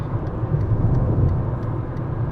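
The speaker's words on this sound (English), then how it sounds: "I'm now at 70 miles an hour in fifth gear with a downhill assist" A fourth-generation Fiat Panda 1.2 petrol car cruises at 70 mph in fifth gear, a steady low engine drone and road rumble heard from inside the cabin, continuous, with no talk.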